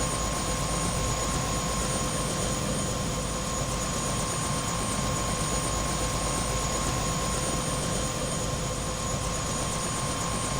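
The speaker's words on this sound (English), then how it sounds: "Dude, that is a heck of a helicopter." A helicopter in the video game Prey holds a constant heavy rotor thrum with a sustained turbine whine, close, loud and unbroken throughout, with no speech.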